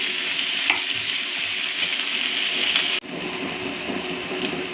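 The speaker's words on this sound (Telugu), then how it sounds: "ఉల్లిపాయలు బాగా వేయించుకోవాలండి. బ్రౌన్ కలర్ వచ్చే వరకు వేయించుకుని" Onions frying in a pan with a little oil until browned for egg masala curry, a continuous loud hissing sizzle broken by a short dip as the pan is stirred.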